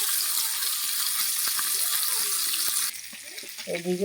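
Fish pieces frying in hot oil, a dense continuous hiss and crackle that drops sharply partway through, followed by a brief clink and a short tonal sound near the end.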